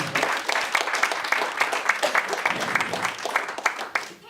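Scattered, lukewarm applause from a small comedy show audience, uneven claps rising and falling for a few seconds with no one speaking.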